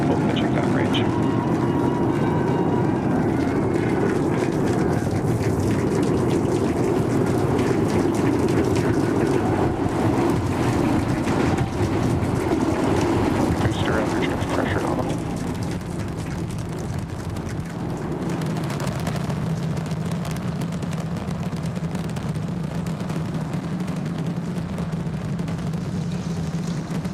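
SpaceX Starship Flight 6 Super Heavy booster with all 33 Raptor engines firing in flight gives a loud, continuous broadband roar that crackles and rumbles, easing slightly about halfway through.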